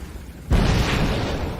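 Grenade blast in Fable III, a sudden deep booming explosion after a brief quiet moment, followed by a loud rumbling roar that trails off over the next second.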